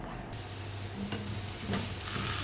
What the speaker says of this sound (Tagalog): Ipreprito muna natin yung carrots bago yung iba pang mga sahog.